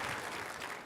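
Audience applause for panel members at the close of a 2023 annual forecast event, a steady wash of clapping across the whole moment at moderate level.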